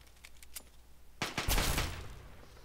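Gunfire from raiders in the video game Fallout 3: a sparse few shots first, then a dense burst of overlapping automatic fire and blasts that rolls on and fades, loud and close.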